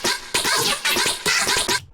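Chopped synth pad run through ring modulation with automated reverb, sounding as a series of short stuttering bright bursts in a loose rhythm, filling the mix loudly and ending with a brief tail into silence.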